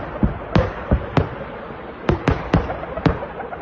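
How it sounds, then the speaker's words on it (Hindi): White phosphorus munitions bursting over a military camp, heard as a string of about nine sharp cracking pops at irregular intervals, fairly loud and close over a faint background rumble, with no voices. "व्हाइट फास्फोरस बम दागा गया है रूस की तरफ से यूक्रेन के मिलिट्री कैंप पर।"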